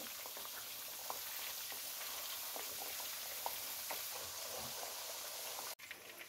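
Fish frying in a pan with home-ground spices, a steady close sizzle and crackle with scattered oil pops, running unbroken and alone until a brief dip near the end.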